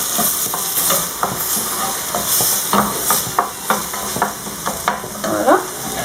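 Lamb and carrot pieces cooking in a pot over very low heat for a bulgur dish, giving a loud, steady sizzle broken by repeated scraping and clinking stirs of a utensil.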